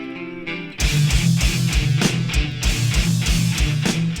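A song playing from a 25th anniversary vinyl pressing: a quiet sparse intro gives way to loud, dense heavy metal with pounding regular drum hits and thick distorted guitars.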